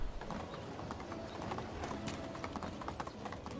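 Horse hooves gallop fast and rhythmically in the video game Medieval Dynasty, a dense, continuous drumming of close hoofbeats.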